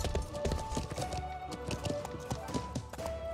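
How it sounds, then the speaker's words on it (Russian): Horse hooves in a video game, with a rider galloping outside a palisade, a quick run of clip-clop taps at moderate distance under ambient game sound. "Там снаружи каннибал бегает на лошади."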